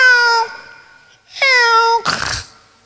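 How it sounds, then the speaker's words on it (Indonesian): Two drawn-out, tonal meows, one after the other, sound close and loud, followed by a brief rough noisy burst. "Itu suara kucing."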